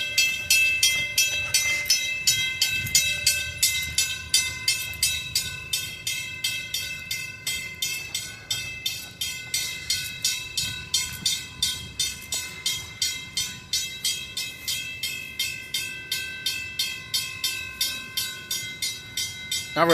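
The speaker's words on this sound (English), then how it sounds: "this is the longest train here, so that's why the train has to stop here" Long train rolling slowly through a rail yard, wheels beating out a steady rhythmic clack over rail joints for the whole stretch, with a metallic ringing tone above and a louder burst at the end.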